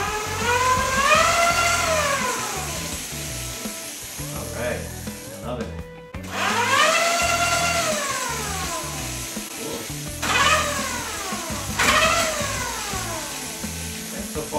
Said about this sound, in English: I'm gonna turn the accelerator here on to see if the back wheel starts to spin